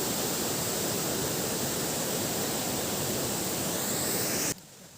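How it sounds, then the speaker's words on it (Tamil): A small waterfall in the Kolli Hills pours down in a steady, loud, broadband rush lasting several seconds, then cuts off abruptly near the end. "பாருங்கள் தண்ணி எப்படி அற்புதமாக கொட்டுது அப்படின்னு"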